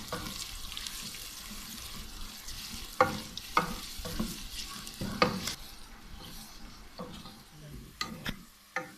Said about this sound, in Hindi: और ये 2 दरमियानी डली है प्याज की कटी हुई, तो ये डाल देते हैं इसमें। और इसको थोड़ा सा फ्राई कर लेते हैं।